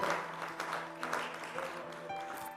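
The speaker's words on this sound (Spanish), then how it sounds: "Lo recibimos con un buen aplauso, ¿le parece?" A congregation at an interdenominational pastoral breakfast applauds to welcome a pastor, giving a brief, moderately distant patter of clapping with a low hum in the background.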